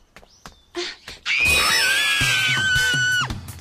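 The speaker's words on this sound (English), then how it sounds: "What are you screaming about?" In a dubbed anime episode, a character lets out a long, loud, sustained scream after a few short vocal sounds, and the scream cuts off abruptly near the end.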